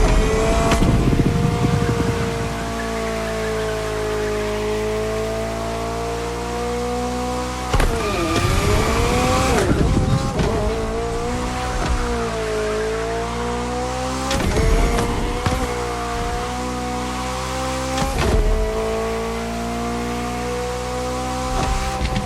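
Open-top car in The Crew Motorfest, its engine droning steadily with rising and falling pitch as gears shift, with a few sharp bursts of revving or tire noise throughout.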